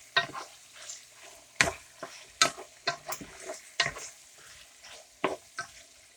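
Chicken stir fry cooks in a deep pan, a soft sizzle running beneath repeated sharp scraping and clattering stirs that come in uneven bursts, close and fairly loud.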